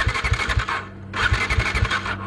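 A new Bajaj Dominar 250 motorcycle out of fuel cranks without firing: two bursts of rapid starter-motor whirring with pulsing engine turnover, separated by a short pause, close and fairly loud.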